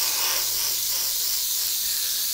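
Steady, close hiss of an aerosol spray paint can coating a plastic model ship hull, continuous and unbroken throughout.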